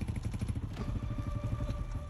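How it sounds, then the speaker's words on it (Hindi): A motorcycle engine runs close by with a steady, chugging idle pulse that stays even throughout the short stretch and gives no sign of cutting out. "एक मिनट बाद तो तेरा बाइक बंद हो जाएगा"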